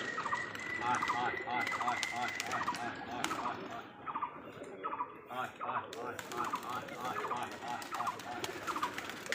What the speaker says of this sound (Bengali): বিদেশি হাই ফ্লায়ার কবুতর।